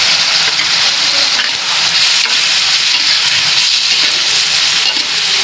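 Soy sauce hitting a hot pan of frying pancit canton and bihon guisado, giving a loud, continuous, close-up sizzle and hiss with steady stirring throughout and no voices.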